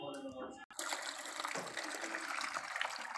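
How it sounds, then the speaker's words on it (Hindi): Water splashes and sloshes steadily inside a plastic tub being washed, a continuous close wet rush after a brief cut at the start, with no clear talk over it. "इस प्लास्टिक के टब को अच्छी तरह से हम वॉश करेंगे पानी के साथ"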